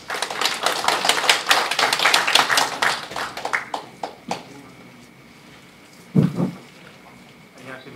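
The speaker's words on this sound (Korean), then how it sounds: "박수로 환영해 주시죠." An audience at a maritime territory policy forum gives dense, rapid applause to welcome a presenter. The applause fades after about four seconds, leaving a few scattered claps and then brief speech.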